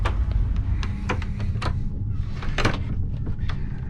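Sleeper compartment door on a EuroNight train between Budapest and Berlin being handled and closed, a series of knocks, clicks and sliding rattles over a steady low train rumble.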